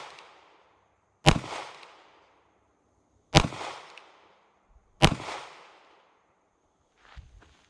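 Handgun fired one-handed without sights at a target range from 8 yards: three sharp, loud cracks spaced about two seconds apart, each with a short ringing decay, followed by a faint thump at the end.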